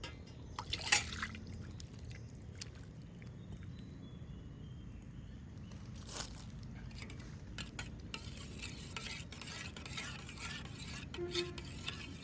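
Jaggery and egg are mixed for vatalappan batter while cooking outdoors in a forest. Faint liquid stirring and sloshing sits under a hissing background, with a few small clinks near the start and no speech.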